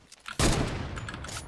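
A single sniper rifle shot fires in a video game, a sudden loud crack followed by a short, rumbling decay, with faint game sounds before it.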